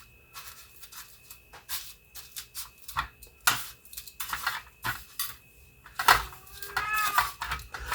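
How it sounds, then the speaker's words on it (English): Pet cats meow and cry for food in a home kitchen where chicken tenders are being coated, with several short cries spread through the clip alongside clinking of dishes and utensils. "the cats always sounding like they're in heat"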